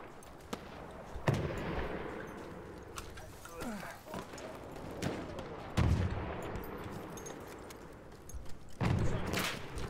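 Lever-action rifle fire in the first-person shooter Battlefield 1, several sharp gunshots spread across a noisy battlefield with distant shots, horse hooves and voices in the background.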